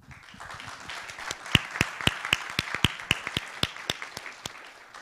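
Closing applause from a conference audience at the end of the first day of Protecting the Past, starting sparse and building into a brisk run of sharp individual claps, close and distinct, over a soft background patter.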